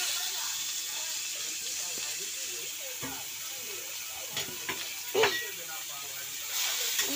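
Chopped onions frying in hot oil with green chillies for a small fish paturi curry: a steady, loud hiss of sizzling with a few stirring knocks, under a person talking.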